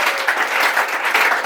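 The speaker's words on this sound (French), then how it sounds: "le prophète Caleb, si vous pouvez l'applaudir avec des acclamations," An audience breaks into steady, dense applause with cheering at a French-language religious gathering, a loud continuous clapping wash without any speech over it.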